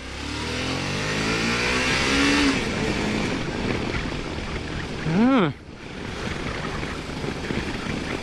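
A new 650cc motorcycle of about 220 kg accelerating hard, its engine rising in pitch, peaking, then a quick gear change before pulling on, close and loud under wind rush, with a voice in the background.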